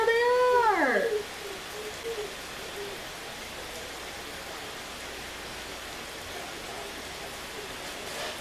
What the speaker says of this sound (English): oh wow, she is raining hard.